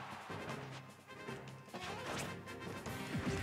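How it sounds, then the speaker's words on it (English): Forward smash attacks in Super Smash Bros. for Wii U land as repeated sharp crashing hits and thwacks over a busy game soundtrack, fairly quiet and with no talking. "he's going for a lot of forward smashes"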